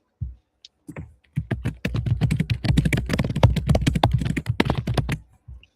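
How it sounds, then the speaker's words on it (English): Rapid, dense keystrokes clatter on a computer keyboard during a live online demo, a continuous burst of clicks lasting several seconds, close and fairly loud, with no speech. "We have some rapid fire typing"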